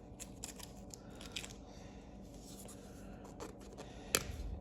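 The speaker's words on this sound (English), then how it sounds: "Well, it ripped that part of the sticker." A paper label tearing as it is peeled off the back of a Super Nintendo game cartridge, giving soft, irregular scratchy rips across the clip with one sharper tearing snap near the end, close and quiet with no talk.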